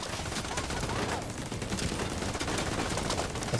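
Rapid automatic gunfire from a deployed turret in a multiplayer shooter game, a steady dense rattle of shots running without pause at fairly close range.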